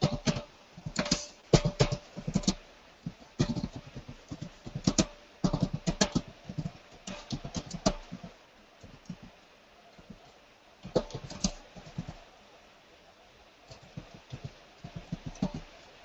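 Keys clatter on a computer keyboard in irregular bursts of quick taps separated by short pauses, close and moderately loud, with no voices.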